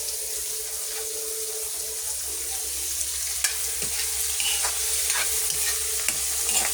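Pork chop grilling outdoors in the midday sun gives a soft, continuous sizzling hiss over a low hum, with a few faint clinks and taps.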